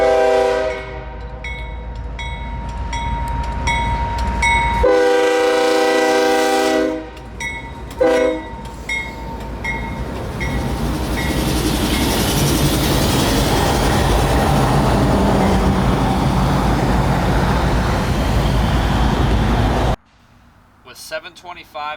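A pair of CSX locomotives roll in to couple onto empty hopper cars, with long, loud blasts of the train horn over a steady rumble. The engine noise keeps building until it cuts off near the end.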